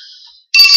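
An incoming call on a phone rings out loud and close after a brief faint tone and a moment of silence, the bright electronic ringtone continuing steadily to the end.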